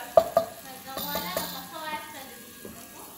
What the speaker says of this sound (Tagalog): 3 tablespoons cooking oil and onion.